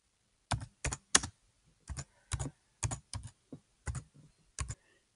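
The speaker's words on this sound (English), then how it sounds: "so you type in your question" Keys on a computer keyboard are typed in short bursts of close clicks with brief pauses between, nearby and moderately loud, while a question is entered into a Google Forms page. No one speaks.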